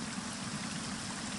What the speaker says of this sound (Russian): вот такой вот небольшой горный ручей,